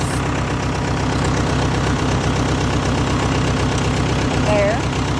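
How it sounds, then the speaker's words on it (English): A tractor hitched to a bush hog idles in a steady, loud, low drone with an even knocking rhythm, no voices over it. "I'm going to drive the tractor down there."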